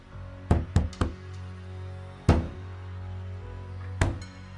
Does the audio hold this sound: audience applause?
no